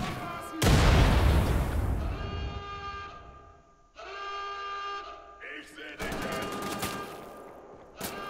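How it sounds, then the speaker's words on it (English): Heavy shotgun blasts from Wolfenstein: The Old Blood, a loud booming shot up front followed by further bursts of gunfire amid sustained metallic ringing, with the gunfire returning sharply near the end. "Give me my shotguns!"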